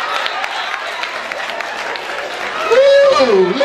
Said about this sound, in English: How about a big round of applause for our subjects